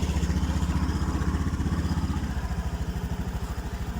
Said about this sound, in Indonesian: Ini putaran mesinnya masih di 1500 ataupun bisa dikategorikan standar